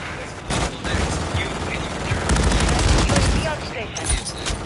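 Call of Duty MW3 gunfire on the Shipment map: dense, rapid bursts of automatic weapons and overlapping shots crackle continuously, loud and close, with game voices briefly heard beneath.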